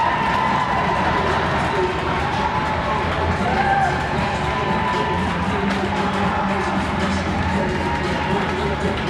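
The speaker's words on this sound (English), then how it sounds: "Ice Dog faithful clearly packing the house as you heard the uproarious applause they're giving to Nicholas Agretti and the boys." Packed arena crowd at a youth bantam hockey playoff game erupts in a sustained roar of cheering and applause after a home team goal, dense and loud throughout.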